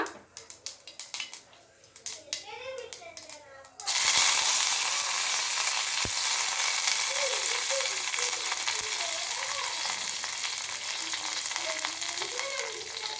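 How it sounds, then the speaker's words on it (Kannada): Mustard seeds and curry leaves hit hot oil for a sambar onion chutney tempering. After a few seconds of scattered clatter and faint voice, a sudden loud, dense sizzle and crackle begins and holds steady close by. "ನೋಡಿ, ಸಾಸಿವೆ ಚೆನ್ನಾಗಿ ಚಟ್ಪಟ್ ಅಂತ ಅಂತಿದೆ. ಈಗ ಕರ್ಬೇವು ಸೊಪ್ಪನ್ನ ಹಾಕ್ಕೊಬಿಡೋಣ ಸ್ವಲ್ಪ."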